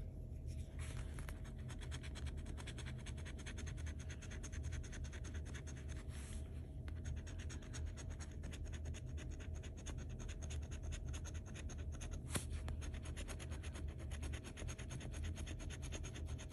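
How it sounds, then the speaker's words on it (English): A lottery scratch ticket being scraped continuously, a steady close rasping and scratching that runs throughout with no voices. "Are you done scratching your ticket?"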